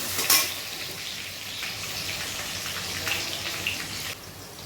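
Onions frying in a pan for a hotel-style chicken curry, a steady close sizzle and crackle with a few sharper spits and clinks of a utensil against the pan.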